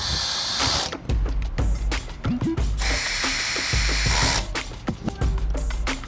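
A power tool ratchets and whirs in short, repeated bursts while tightening down a mounting bracket for a Yotta commercial microinverter, with brief pauses between pulls. The sound is close and loud.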